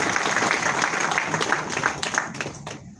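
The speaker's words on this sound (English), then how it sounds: "I think he deserves another round of applause." Audience applause at a formal university ceremony in Kano, a few seconds of steady clapping with some sharper individual claps, tapering off at the end.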